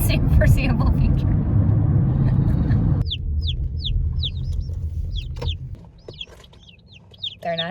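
Agitated baby chicks shut in a box peep in quick rising chirps and scratch with their little nails, close up, under a loud vehicle rumble that drops away partway through.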